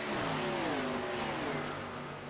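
A stock race car's engine keeps droning and whirring after a wreck during a USRA event at Talladega, with smoke pouring from the back. The steady engine noise fills the clip at moderate level, with no talk.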